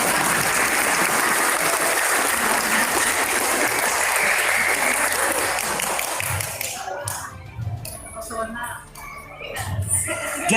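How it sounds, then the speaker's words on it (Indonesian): Audience applause at an Indonesian religious talk, a dense burst of clapping filling the hall for about seven seconds, then thinning into scattered claps with low murmurs and shuffling. "Tepuk tangan."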